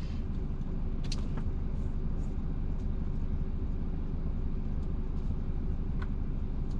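A car idles at a red light in a city centre, a low, steady engine rumble close by with faint scattered ticks and distant traffic noise over it.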